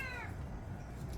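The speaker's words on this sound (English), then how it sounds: "I've got some cats that probably will join us." A cat gives one short meow at the very start, faint against a low background rumble.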